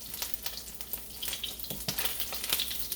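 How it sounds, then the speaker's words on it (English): Shrimp fry in hot oil in a pan during a curry stir-fry, giving steady close-up crackling and sizzling with scattered sharp pops throughout. "As you can hear the crackling, obviously that's oil and water from the shrimp."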